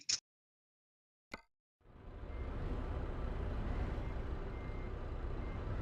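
Euro Truck Simulator 2 truck backing up: a couple of short isolated blips, then a steady low diesel engine rumble with broad road-like noise that rises and holds loud and constant, no talk.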